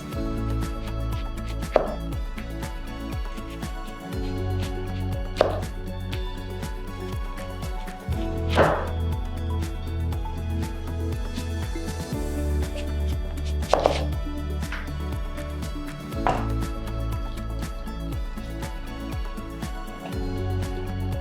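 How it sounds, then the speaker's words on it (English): A knife slices through onions into rings on a cutting board, with a series of crisp cuts and board knocks at uneven intervals of a few seconds over a steady background, close and clear with no talking. "we are going to slice the onions into rings"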